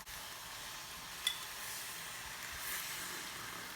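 Beef broth poured into a pan of mushrooms and flour for stroganoff, a steady airy sizzle and hiss running throughout, with a small clink early on.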